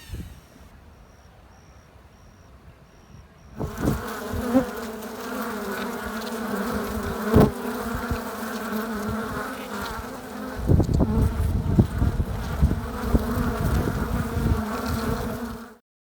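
Honeybees buzzing at a hive in a house, a steady dense drone that swells from about four seconds in and grows louder near the end, with no talk.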